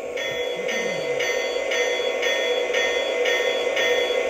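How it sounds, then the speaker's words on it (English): A model diesel locomotive's sound system rings its bell in a steady, evenly spaced series of metallic strikes, close and moderately loud over a constant background hum, with no talking. "I got the bell."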